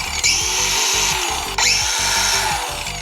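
An old cordless power drill running on a new battery, whirring loudly up to speed in two close bursts with a brief pause between, each trigger pull winding up and sustaining a strong motor whine.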